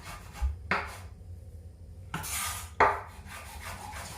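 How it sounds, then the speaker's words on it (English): Knife slicing two mushrooms finely on a chopping board, giving a few soft, scattered cuts and scrapes with quiet gaps between them, close and fairly faint. "I've got myself 2 mushrooms and I'm just going to slice them really finely"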